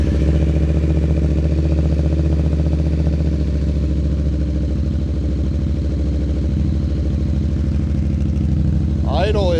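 A motorcycle engine idles in neutral through an exhaust with a fiberglass-mat-packed baffle, giving a loud, steady, even rumble that lasts throughout with no breaks.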